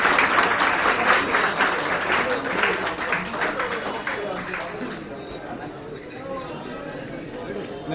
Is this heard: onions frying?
no